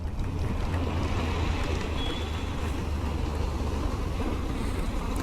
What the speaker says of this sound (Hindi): यहाँ पे इतनी हवा चल रही है ना